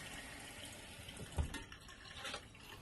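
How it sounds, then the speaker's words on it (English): Faint, steady trickle of water running through RV in-line water filters, a low continuous wash with a small bump partway through, quiet and without talk. "we're going to just run a little water"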